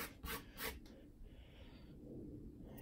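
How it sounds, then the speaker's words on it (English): Fingertips rub over an oil pastel drawing treated with fixative, making a few quick, soft rasping strokes at the start, then faint dry friction, very quiet and close, with no speech. "I'm just gonna rub"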